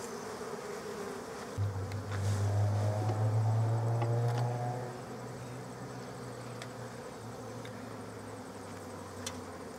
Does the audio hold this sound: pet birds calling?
no